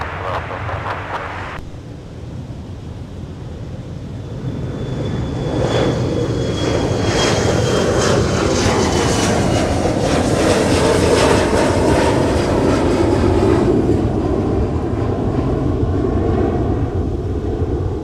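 An airliner at Minneapolis airport on a winter day, a loud, building roar as it powers up and takes off, a broad sustained rumble swelling and holding throughout, heard from nearby.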